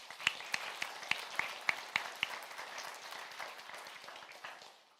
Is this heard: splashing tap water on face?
no